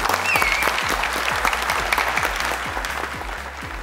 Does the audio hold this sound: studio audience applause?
yes